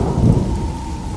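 Thunderstorm with heavy rain pouring steadily and a low rumble of thunder rolling underneath, loud and continuous with no voices.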